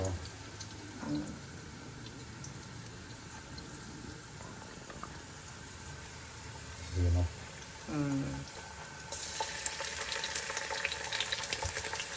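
Tomato rice with ginger garlic paste frying in a pan, a soft steady sizzle running throughout with a few brief stirring scrapes and a brighter hiss near the end; a voice talks at moments over it.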